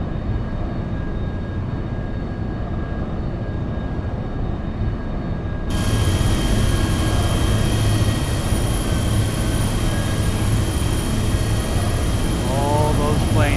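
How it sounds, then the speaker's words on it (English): Boeing 737 airliner engines in the X-Plane 12 flight simulator whine and roar steadily, loud and continuous, with a broadband rise partway through. "Hear that? We're gonna be shutting down engines."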